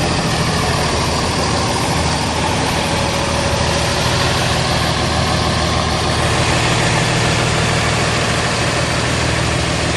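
A big RV engine drones loud and continuous as it rounds a tight curve, a heavy steady rumble with no break or voices.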